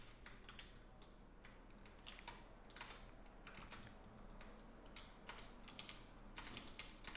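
Rapid, irregular keystrokes clatter on a computer keyboard at a new desk setup with a microphone sitting near the keys, steady and close over a low background hum.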